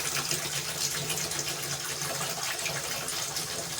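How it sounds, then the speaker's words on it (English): Water pours steadily from a gallon jug into a toilet tank in a home bathroom, a continuous close splashing gush that holds at an even level throughout, with no voices. "I've just been using like gallon jugs of water to fill it up so that I could actually have it to where I can flush it"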